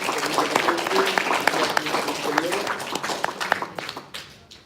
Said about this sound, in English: I will ask you a round of applause for them.